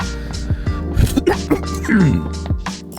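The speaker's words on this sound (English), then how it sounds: "That was a very not cozy cough." A person clears their throat and coughs several times in harsh, close bursts, with a few vocal sounds between them.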